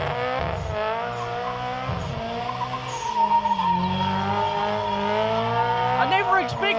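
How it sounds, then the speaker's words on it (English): A Subaru WRX STI doing a burnout at a car show, its engine roaring steadily while the tires squeal and skid close by, and onlookers can be heard over the noise. "I never expected to see a Subaru do a burnout. I mean it skids."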